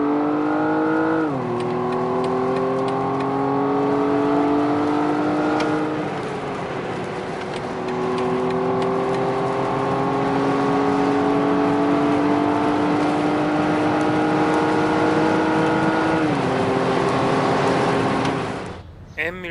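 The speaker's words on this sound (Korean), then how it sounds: "실제 배기구에도 플랩이 있어서 스포츠 모드에서는 소리가 더 박력 있게 들립니다." A BMW M135i engine hums and rises steadily in pitch as it accelerates, with brief drops between gear changes, loud and close throughout.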